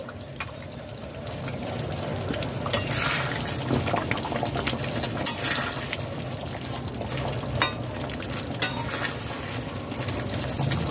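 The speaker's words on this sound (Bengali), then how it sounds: "ফ্রেশ ক্রিম দিয়ে দেব চার টেবিল চামচ ফ্রেশ ক্রিম দিয়েছি" Fresh cream poured and stirred into a simmering Afghani malai gravy, a steady close bubbling and liquid swish with soft scraping stirs throughout, no talking.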